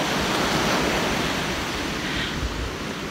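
Ocean waves on a warm beach, a steady close wash of surf with wind noise and no speech.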